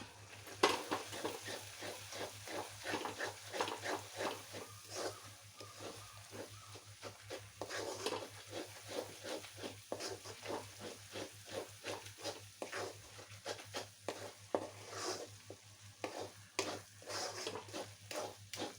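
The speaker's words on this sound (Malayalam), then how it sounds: "ഈ പൊടികളൊക്കെ ഒന്ന് മൂക്കുന്നത് വരെ ഇളക്കി കൊടുക്കാം." Spice powders for chicken biryani are stirred in a pan, with a soft continuous sizzle under frequent light scraping strokes of the spoon, quiet and steady throughout.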